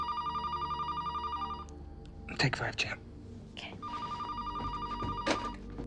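A telephone bell ringing in a movie scene, a steady electronic trill that stops while voices speak briefly and softly, then starts ringing again, moderately loud in a quiet room.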